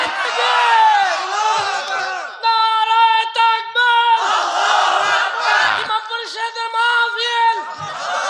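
A gathered crowd loudly shouting the takbir in unison, several drawn-out chanted calls with a lead voice between them, close and strong.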